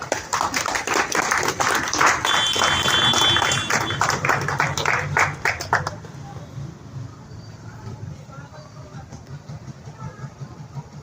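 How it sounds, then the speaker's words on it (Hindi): Audience applause rings out as dense, loud clapping for about six seconds, then cuts off and gives way to quieter voices. "ताली हो जाए गड़गड़ाहट के साथ"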